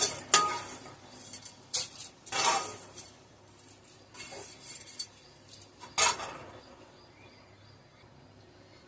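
Vermicelli frying in a pan for semiya payasam, stirred with a metal utensil: several sharp scraping clinks against the pan arrive at irregular intervals over a quiet, faint background.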